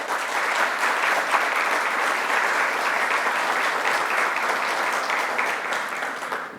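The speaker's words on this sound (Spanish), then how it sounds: "para quien pido un merecido aplauso" Sustained applause from a conference audience honoring an award recipient at a social sciences and human rights panel in the Caribbean, a dense, steady wash of many hands clapping at even loudness for the whole stretch with no talk.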